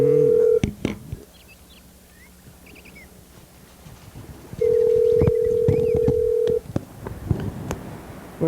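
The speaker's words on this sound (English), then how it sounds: "We're going to listen to the phone ring for a while." A telephone is dialed with a quick run of touch tones, then a steady electronic ring tone sounds for about two seconds amid faint background clicks and hiss.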